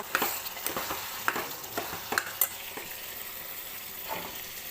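Mutton liver cooking in a pan with half a lemon sizzles softly and steadily, with several sharp scraping stirs near the start and a few more later; quiet, with no voices.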